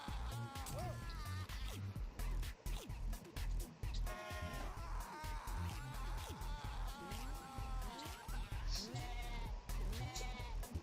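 Goat bleats from a video game in which the player is a goat-man supernatural creature, repeated many times in a busy stretch over game music and effects, loud and close.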